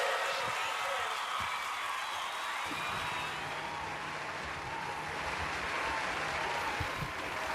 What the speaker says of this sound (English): Keep the cheering going on